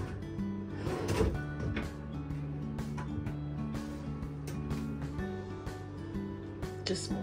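Hotel room drawers opening and closing, with a few soft wooden thunks and slides beneath quiet talk and room hum.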